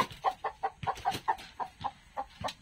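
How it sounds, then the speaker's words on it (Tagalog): Chickens clucking close by in a steady run of short, throaty calls, about a dozen in quick succession with no talking. "Ito yung mga manok ko."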